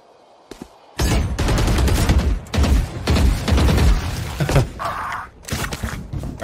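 Gunfire in the Valorant video game during a VCT 2021 Challengers esports match, with loud rapid bursts of shots repeating over several seconds and brief pauses between volleys.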